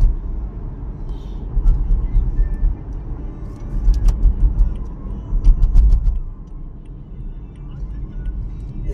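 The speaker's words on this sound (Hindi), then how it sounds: "अभी यहाँ से हम लोग यूटर्न करेंगे गाड़ी लेके" A car rolls slowly through a U-turn on a road, its engine a steady low rumble that swells briefly, while people talk inside over it.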